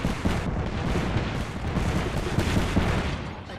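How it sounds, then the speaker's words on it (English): Knuckle Cluster firing in Apex Legends, a dense stretch of rapid explosive pops and booms running continuously for several seconds, loud and close with no pause. "Knuckle cluster's firing."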